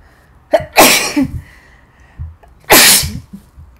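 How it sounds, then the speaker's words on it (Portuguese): Two loud sneezes close up, about two seconds apart, each with a short intake of breath before it. "Vou espirrar."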